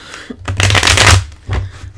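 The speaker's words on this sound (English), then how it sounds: "I did shuffle these off camera, but I'll do it once on camera for your viewing pleasure." Tarot cards riffled close up in a loud papery burst lasting under a second, followed by a shorter second flutter, with no voices.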